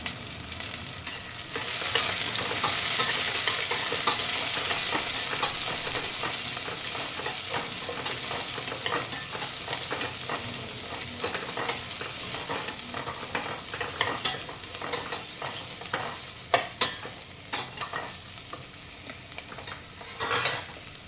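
Onions fry in a pan with a strong continuous sizzle while a spoon stirs them, adding repeated scraping knocks that grow more frequent toward the end, with no one speaking.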